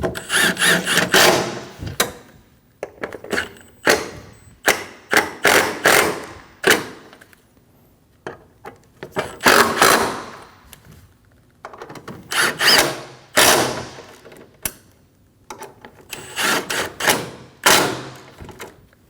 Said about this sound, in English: Snug all the bolts down.